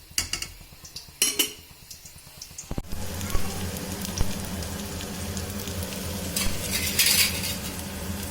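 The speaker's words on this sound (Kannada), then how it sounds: "ನೋಡಿ, ಒಗ್ಗರಣೆ ಹಾಕ್ತಾ ಇದ್ದೀನಿ." Tempering for mixed dal sambar sizzles hard in hot oil with mustard seeds, onion and curry leaves. A few metal utensil clanks and stirring come first, then a loud, steady frying hiss fills the rest.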